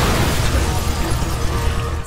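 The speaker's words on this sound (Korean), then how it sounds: "사람이 있다던 5층 역시 폭발하고 말죠" A fifth floor of a building blows up in a Korean drama scene, a loud, sustained roaring blast with deep rumble that fills the whole two seconds.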